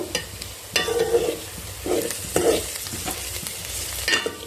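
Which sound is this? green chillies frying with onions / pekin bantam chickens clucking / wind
green chillies frying with onions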